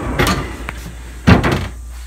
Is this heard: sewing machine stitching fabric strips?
no